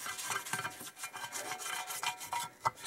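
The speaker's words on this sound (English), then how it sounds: "So it's just working the brush. All the areas, nooks and crannies." A brush scrubs the engine parts of a Kawasaki KZ1000J/Z1000J2 motorcycle, giving quiet, close, uneven bristle scratching and rasping strokes in short irregular bursts.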